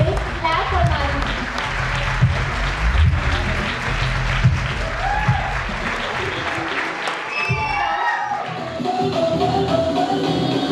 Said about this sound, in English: Clap for Manu.